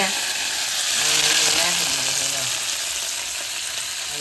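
A Gujarati tempering of cumin, mustard seeds, salt and curry leaves sizzles loudly in a pan as a steady bright hiss that swells midway, close by, with voices faintly present beneath.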